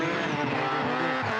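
A drift car at a motorsport drifting cup event slides off the track, its tires squealing loudly and continuously over a roaring engine for the whole stretch, with no gaps.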